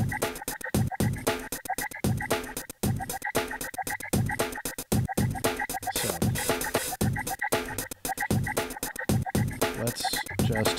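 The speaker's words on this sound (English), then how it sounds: "Add a little tape noise. A little loud flutter." A dense beat mix from an SP-404 MKII sampler with tape noise and loud flutter effects, busy choppy percussive hits and warbling tones repeating loudly and continuously with no talking.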